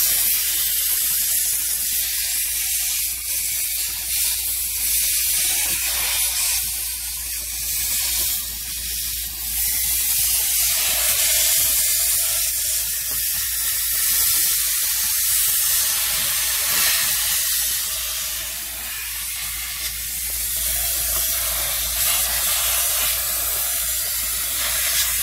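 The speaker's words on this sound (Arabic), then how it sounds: "فتجيب مسدس الموية" A pressure water spray gun blasts a car's AC evaporator with a steady, loud hiss that runs continuously with only small dips in strength.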